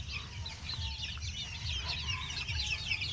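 A flock of hens and chicks clucking and chirping nearby at a poultry yard, a busy continuous chatter of calls over low background rumble, no speech.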